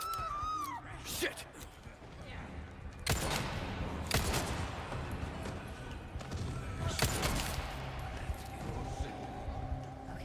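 Gunfire in a Resident Evil video game, several sharp bursts of shots spaced a few seconds apart under someone talking.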